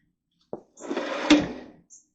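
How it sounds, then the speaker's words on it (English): A sliding drawer on an old repurposed shop cabinet gives a short knock, then one smooth rolling slide ending in a soft bump, followed by a faint tap, close and alone. "Nice sliding drawers."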